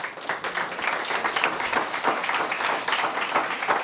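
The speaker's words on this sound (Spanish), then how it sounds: "Brinden un fuerte aplauso al Señor, hermano" A church congregation applauds steadily during a service, a dense wash of many hands clapping at moderate distance with no clear peaks, held at an even level throughout.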